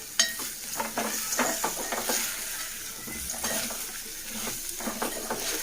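Taro roots frying with spices in a pan, a steady close sizzle with repeated scraping stirs and light utensil taps throughout, no voices.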